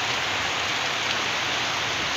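Steady rain falls outdoors as water pools on the street, an even, unbroken wash of close patter with no voices.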